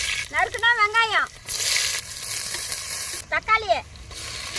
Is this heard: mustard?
yes